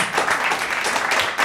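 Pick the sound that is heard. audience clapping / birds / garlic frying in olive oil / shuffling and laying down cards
audience clapping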